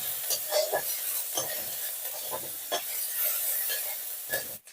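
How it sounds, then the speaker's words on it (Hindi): Onions fry in hot oil in a pan on a gas stove, a steady close hiss and sizzle broken by the scrape of a stirring spoon, with no talk. "वाह, काफी गर्म है, गैस थोड़ा लो करना पड़ेगा, नहीं तो प्याज पूरा ब्लैक हो जाएगा।"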